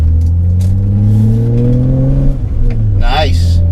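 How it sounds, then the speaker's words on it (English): A 1988 BMW iX 4x4 engine drones steadily from inside while driving, with a brief dip and recovery in pitch midway, close and loud, and a short voice near the end. "So now that I'm driving the car"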